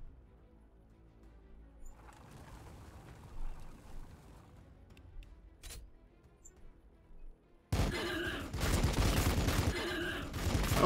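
Weapon fire from units in Warhammer 40K Battlesector, the turn-based strategy game: faint, scattered shots and crackles at first, then a sudden loud, dense volley of continuous firing.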